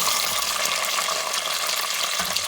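Chopped onion frying in a little over half a cup of hot oil for aloo methi, a steady, loud, continuous sizzle and crackle with no talking.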